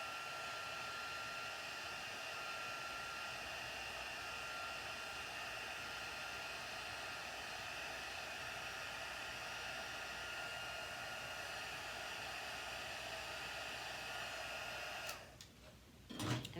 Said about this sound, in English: now I'm going to heat this up with the heat tool, and you're going to see it melt.